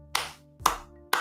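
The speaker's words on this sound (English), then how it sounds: "applaud, bruv, applaud" Three short bursts of hand clapping, each a sharp onset fading over a fraction of a second, spaced about half a second apart, close and moderately loud with no voices.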